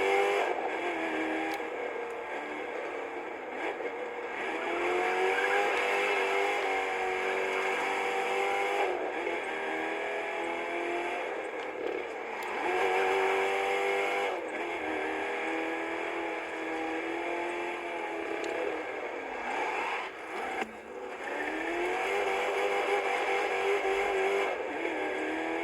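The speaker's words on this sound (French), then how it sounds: "j'y vais avec ma belle voiture" A racing video game car engine revs and whines continuously, rising and falling in pitch through gear shifts and corners, loud and steady throughout with no talk.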